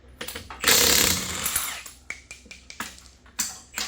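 A power tool whirs loudly to remove lug nuts from a wheel of a square body truck, followed by clanks, metallic clicks and handling knocks nearby.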